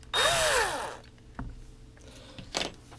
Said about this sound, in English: it's just a matter of drilling it through